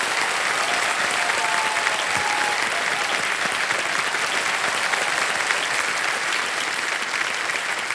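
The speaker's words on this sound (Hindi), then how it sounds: "भाई जोरदार तालियां बज जाए इनके लिए।" Loud, sustained applause from a studio audience at an Indian TV quiz show fills the whole stretch, with dense clapping and no break.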